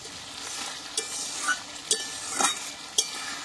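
Fish fat and air bladders fry in hot oil, giving a soft, steady sizzle punctuated by a few sharp pops and crackles, close by and fairly quiet with no talking.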